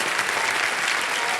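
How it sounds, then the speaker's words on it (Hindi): Dense, steady applause from a studio audience on a televised quiz show, filling the whole stretch at an even level with no pauses. "एक बार तालियां बज जाए इनके लिए"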